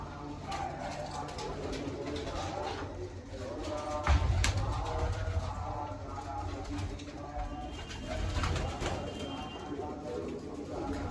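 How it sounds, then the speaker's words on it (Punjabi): Soft pigeon coos murmur over a low background rumble, with a brief louder thump partway through. "ਲਓ ਜੀ ਕਬੂਤਰ ਵੀ ਤਾੜ ਦਿੰਨੇ ਆਪਾਂ"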